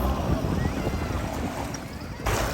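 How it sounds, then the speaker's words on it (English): Water gushing and gurgling from the engine outlet of a Leopard 45 catamaran back in the Mediterranean water, a loud continuous rushing splash with engine rumble, steady for the whole stretch. "lots of water flowing out of the engine this time"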